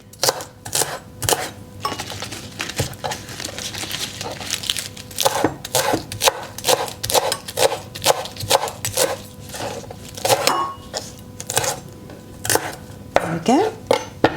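Garden-grown spinach leaves are chopped on a board in a home kitchen, a quick run of close, irregular knife taps with some clinking of dishes and utensils mixed in.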